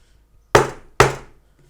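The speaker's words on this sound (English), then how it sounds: "tap it so it just fits nice and snug" A wooden wall of a National beehive super is tapped into place, two sharp close knocks about half a second apart, each ringing briefly before silence.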